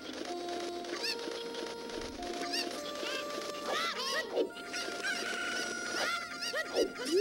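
Cucco chickens in the video game Zelda: Ocarina of Time cluck and squawk repeatedly in short, bright bursts, layered over steady game sound effects and tones.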